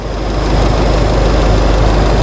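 A 2008 Subaru Legacy with a stalling fault idles close by, a loud, steady engine rumble with no talking.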